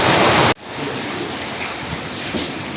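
Rain falls in Diphu, a steady broadband hiss of outdoor rainfall that follows a brief louder burst and then continues at an even, moderate level with no talking.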